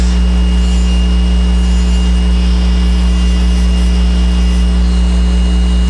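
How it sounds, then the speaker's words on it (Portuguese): A Maxi-Cut dental bur trims excess material from a provisional crown, giving a steady, loud, continuous high-speed whir with a constant pitch and no pauses or talk. "Utilizando então da Maxi-Cut, nós vamos ajustar e remover o restante desses excessos externos."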